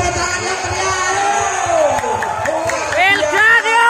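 Crowd at a volleyball semi-final cheers and applauds loudly and continuously, with shouts and whoops rising near the end, while an announcer's voice carries over the din.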